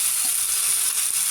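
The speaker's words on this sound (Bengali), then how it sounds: "এখন আমার এটা ফ্রাই হয়ে এসছে" Long beans (borboti) frying in a pan, a steady, close hiss of sizzling oil with no pauses.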